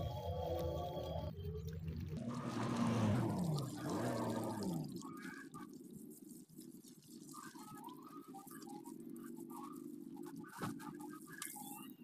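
Water poured onto a soil seedbed being prepared for sowing mustard greens, a steady splashing and trickling that is loudest early on, then settles into a softer continuous wet patter.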